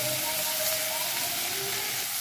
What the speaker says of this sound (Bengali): পেঁয়াজ খুব ভালোভাবে পেঁয়াজ আর টমেটো ভাজা হয়ে গেছে।